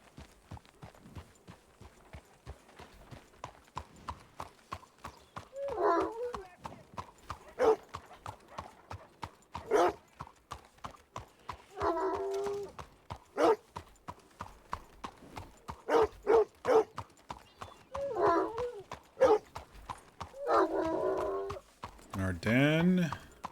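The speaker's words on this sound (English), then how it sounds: "I see some horses." Horses clip-clop through a Red Dead Redemption 2 game world in a steady run of hoof beats, with occasional whinnies and bursts of talk over the hooves.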